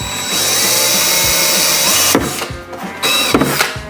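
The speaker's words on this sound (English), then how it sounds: "I'm not going to drill too hard." A power drill bores through a metal sign resting on a table, a steady loud whine for about two seconds followed by two short bursts as the bit breaks through.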